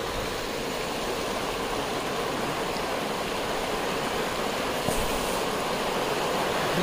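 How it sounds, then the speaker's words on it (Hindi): The Sheshnag river rushes through Pahalgam in Kashmir, a steady, loud roar of flowing water that holds constant throughout, with no talking. "तो उसका पानी आ रहा है, ये शेषनाग नदी बह रही है."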